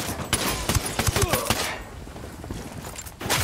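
Ghost Recon Wildlands firefight, a cluster of sharp close shots in quick succession that then fades into quieter ambience before another burst near the end.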